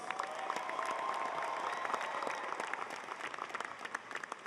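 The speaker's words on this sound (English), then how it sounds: "get ready to cheer for your schools" Graduates at a university undergraduate commencement ceremony applaud and cheer in a sustained, dense burst of clapping from a large crowd, steady throughout and tapering slightly at the end.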